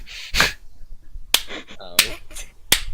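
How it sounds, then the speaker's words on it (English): Four sharp, evenly spaced claps ring out slowly, a beat apart, with a faint voice briefly audible between them. "there is a slow clap."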